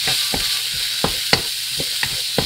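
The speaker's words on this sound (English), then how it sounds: "So let's go ahead and stir fry the carrot." Carrot pieces being stir fried in a pan for Ghanaian chicken fried rice, giving a steady soft sizzle with several sharp scraping clicks of the stirring utensil spaced irregularly, close and moderately loud with no talking.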